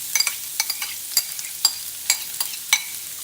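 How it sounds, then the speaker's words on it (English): Carrots fry in bacon grease in a pan with a soft sizzle, broken by sharp, irregular clicks and taps of a utensil stirring them, close up and with no voices. "So let's fry up our carrots first because they're a little bit firmer."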